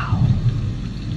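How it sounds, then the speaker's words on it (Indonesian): Thunder during the rainy season, a low, loud rolling rumble mixed with the steady hiss of falling rain, with no one talking. "kamu dengar nggak sih suara petir tadi?"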